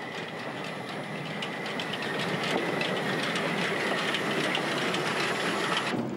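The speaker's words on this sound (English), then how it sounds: "Friendly train crew beckoned us on board for a trip in the guards van up to Chemnitz." A train runs along the line to Chemnitz, heard from inside the guard's van as a loud, steady rumbling roar with faint rhythmic clickety-clack, cutting off abruptly at the end.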